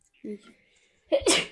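A single close sneeze bursts out sharply near the end, after a brief earlier spoken word, during an indoor French interview conversation.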